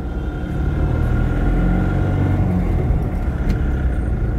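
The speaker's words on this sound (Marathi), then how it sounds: "तर मित्रांनो बघा, अशी ट्रॅफिक जाम आहे." Steady morning traffic jam of cars and motorbikes, a continuous close rumble of idling and creeping engines with no pauses and no voices.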